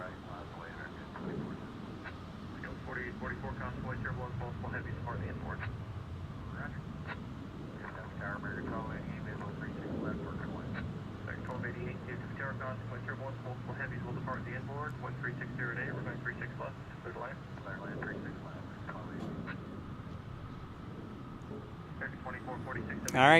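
A Boeing 777 jet airliner rumbles at DFW airport, a broad steady engine roar held at moderate distance, with people talking over it throughout.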